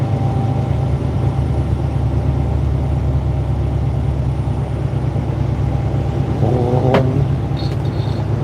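Steady low rumble of a truck engine and highway road noise from inside the cab, constant and loud, with a faint creak near the end.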